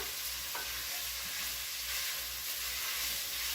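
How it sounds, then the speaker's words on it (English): Carrots hiss and crackle in a pan with bacon fat and onions for beef bourguignon, a steady close sizzle broken by light stirring scrapes, with no talking. "So now I'll throw in my carrots. We'll just stir them around."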